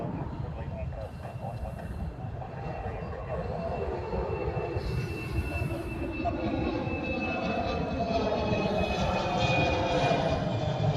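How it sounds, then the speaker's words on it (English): A Hawaiian Airlines airliner, Flight 10 bound for LAX, rolls out at Honolulu airport, giving a steady, broad jet roar that holds at a moderate distance for the whole stretch and swells slightly toward the end. "This is Hawaiian Flight 10, heading off to LAX."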